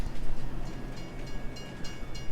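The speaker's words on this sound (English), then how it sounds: "The train will now drive to Ottenberg and will return on the other side of the map." A freight train pulls away in the farming video game Farming Simulator 22, a steady rumbling rail drone with faint rhythmic clacks, heard on its own without talk.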